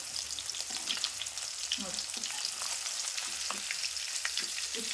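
Paneer frying in hot oil in a kadai, a steady dense sizzle with soft crackles and a few spatula scrapes, continuous and close throughout.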